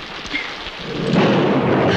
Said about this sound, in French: L'orage a été si soudain.